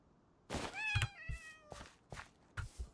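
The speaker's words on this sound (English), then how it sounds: "Look at all the damn cats." Several Minecraft cats meow in quick succession, a few high wavering cries with soft thumps between them, fairly close and clear with no talking.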